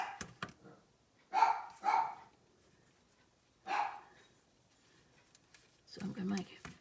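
Dogs at home bark in a few short, separate bursts, as if at someone outside, moderately close with quiet gaps between.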